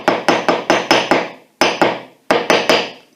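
A hammer taps the ends of colour-coated aluminium craft wire, delivering sharp close metallic knocks in quick bursts: five evenly spaced strikes, a pause, one lone hit, then three more, each with a short ringing tail.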